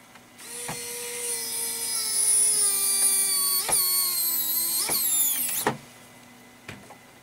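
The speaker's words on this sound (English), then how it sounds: "Let the screwdriver do all the work." A power screwdriver drives a screw into the casing of a Magnavox D8443 cassette player, giving a close, high motor whine that holds for about five seconds, dips slightly, then cuts off, followed by a few small clicks.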